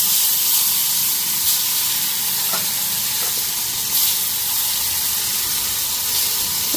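Cut spiny gourd (kakrol) pieces fry in hot oil with a loud, steady sizzle and hiss, broken by a few faint clinks of stirring.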